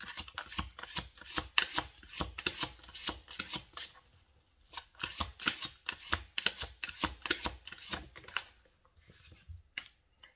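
Tarot cards being shuffled for an advice reading: a long run of dense, crisp riffling and flicking bursts, close and fairly loud, with brief pauses around the middle and toward the end.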